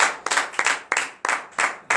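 Congregation at a morning prayer service in Benin clapping in acclamation, sharp bursts of hand claps in quick repeated waves, loud and close, with no talk over them.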